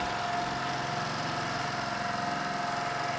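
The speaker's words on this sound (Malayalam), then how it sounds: "അങ്ങനെ ഔട്ട് ബോർഡുള്ള ഒരു ബോട്ട്" Outboard motor on a small fishing boat near Munroe Island, a steady droning engine hum running continuously without pause, close and fairly loud, no voices.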